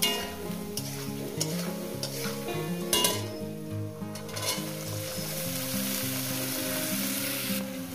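Plantain pieces fry in hot oil, giving a constant dense sizzle with occasional stirring clatter and soft melodic music underneath.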